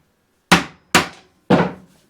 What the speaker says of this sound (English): then you put that in there and knock it in